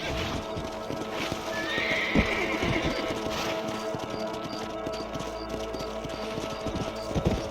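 Horses in the Red Dead Redemption video game clip-clop along at a steady pace, and one gives a clear whinny early on. The hooves stay loud and close over a constant background.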